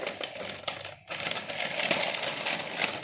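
Cardboard box packaging being torn open by hand, a rapid, dense ripping and crackling that runs almost throughout, broken by one brief pause near the middle, close and fairly loud.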